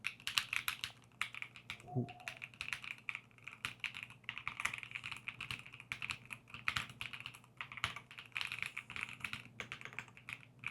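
Rapid typing on an Asus ROG Azoth X mechanical keyboard, close and fairly quiet, a dense run of clicky keystrokes with brief pauses and one low thud near the start.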